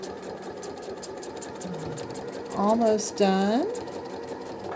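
A low shank sewing machine quilting with a ruler whirs in short bursts with rising and falling motor pitch as the stitching speeds up and slows, close by, with a brief spoken remark over it.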